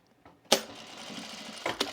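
Sewing machine top stitching a quilted tool case, a sharp mechanical clunk followed by a brief close run of whirring stitches and another click.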